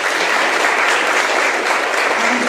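Loud, dense applause from an audience at a school conference, continuous clapping sustained throughout without pause.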